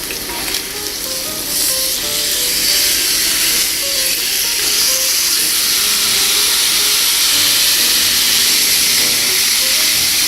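Swordfish sizzling and frying in a pan, a steady loud hiss with crackling pops throughout and faint stirring beneath, with no talk.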